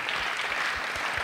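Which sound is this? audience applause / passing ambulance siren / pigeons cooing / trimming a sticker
audience applause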